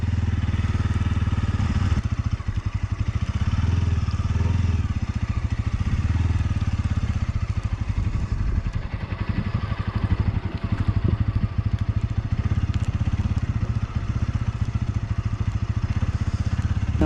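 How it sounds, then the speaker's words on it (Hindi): A motorcycle engine stuck in a snowstorm in Ladakh, revving up on its own as a steady, loud, low drone with rough clattering pulses and no letup throughout. "ये देखो इसके आरपीएम अपने आप बढ़ रहे हैं"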